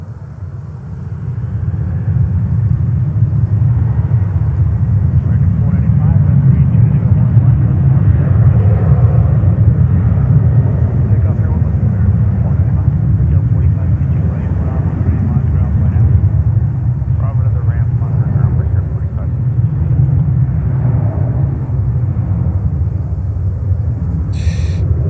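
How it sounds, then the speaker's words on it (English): Jet airliner taking off on runway 31 left at JFK Airport in New York, a loud, steady roaring rumble that swells and holds throughout, with faint voices in the background. "Back-to-back takeoffs here on runway 31 left."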